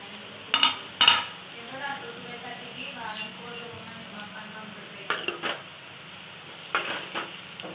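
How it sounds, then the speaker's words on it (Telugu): Bread slices shallow-frying in heated oil, a soft steady sizzle with a few sharp clacks of a utensil against the pan, heard up close with low background noise. "ఆయిల్ కొంచెం హీట్ అయిన తర్వాత ఈ పీసెస్ కట్ చేసుకున్న బ్రెడ్ స్లైసెస్ వేసి ఫ్రై చేసుకోవాలి"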